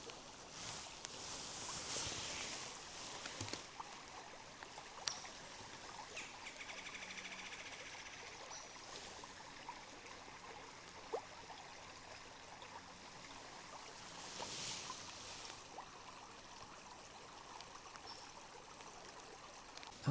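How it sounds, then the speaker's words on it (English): A small creek flows beside a footbridge, with a soft, steady wash of water and faint trickling that stays low and continuous throughout, occasional light rustles and handling bumps, and no voices. "there's another little section of creek with a bridge"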